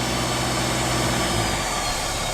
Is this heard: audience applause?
no